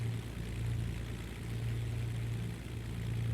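A simulated Baron 58 twin-engine plane idles at around 1200 RPM in X-Plane 11, a steady low droning hum with a constant throbbing tone, continuous and unbroken, with no voices.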